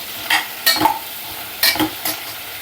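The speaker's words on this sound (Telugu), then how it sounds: "ఈ పోపు అంతా ఈ మునక్కాడ ముక్కలకి పట్టే విధంగా కలుపుకోవాలి." Drumstick (moringa) pieces being stirred into a hot oil tempering for a curry, with several distinct scraping stirs of a spoon against the pan over a soft steady sizzle, close and clear, no talking.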